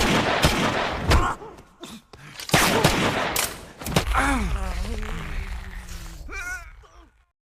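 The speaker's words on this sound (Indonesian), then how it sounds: "dari aksi baku tembak yang mereka lakukan" Gunfire in a film shootout between bandits with supernatural invulnerability: a loud run of sharp shots and thuds for about four seconds, then strained vocal cries and gasps over a lingering rumble.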